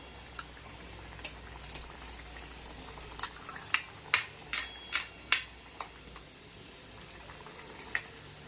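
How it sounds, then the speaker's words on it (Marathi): Katori dough cup deep-frying in oil over a medium gas flame, giving a steady low bubbling hiss with a run of sharp pops and crackles bunched in the middle. "सगळ्या बाजूने अशी ही कटोरी आपल्याला तळून घ्यायची आहे."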